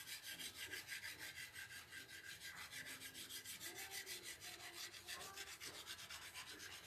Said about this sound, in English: you lay it on its side and you just rub it across the surface of your board